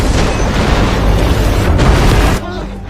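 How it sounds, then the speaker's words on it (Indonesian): A large methane gas explosion deep in a mine tunnel gives a loud, sustained roaring boom that rumbles for over two seconds before dropping off abruptly. "Kebocoran gas metana yang gak terdeteksi sensor menyebabkan ledakan besar dan mengurung sebagian pekerja"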